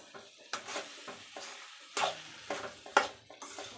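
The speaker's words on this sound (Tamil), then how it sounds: "சேர்த்திட்டு நம்ம நல்லா கிளறிக்கலாம்" Banana stem stir-fry with peanut and cumin powder being stirred in a pan, a series of about six brisk scraping strokes in an uneven rhythm over a faint sizzle, close by and with no talking.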